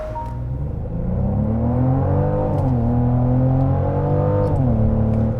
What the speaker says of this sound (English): Sport Plus with launch control.